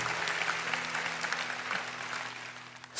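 A church congregation at a youth worship service applauds steadily, a dense sustained wash of many hands clapping at moderate volume, with a faint low hum from instruments or the sound system underneath.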